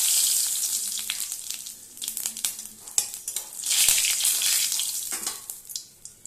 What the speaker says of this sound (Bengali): এবার কড়াইতে তেলটা গরম হয়ে গেছে ফোড়নের জন্য জিরে আর শুকনো লঙ্কা